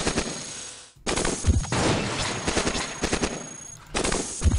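Enemy robots in the game Cogmind open fire, rapid machine-gun bursts crackling loudly in long stretches, broken by a brief pause before another volley.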